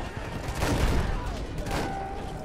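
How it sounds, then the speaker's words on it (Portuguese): Gunfire in the Battlefield 1 video game on PS4, a dense crackle of shots and distant booms blending into a continuous battle din, with a voice talking faintly beneath. "Eu tô atirando no cara"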